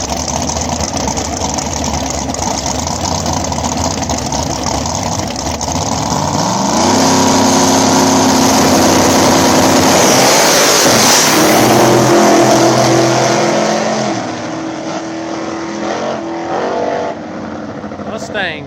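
Nitrous-fed small-tire drag cars, including a Monza called Pac-Man, idle loudly, then roar up as they rev and launch down an Ohio strip, the engine drone swelling mid-clip and easing off toward the end.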